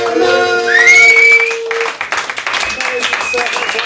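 At a London comedy club, applause and scattered clapping ring out from the audience, loud and close, mixed with whistles and cheers and fading into looser claps.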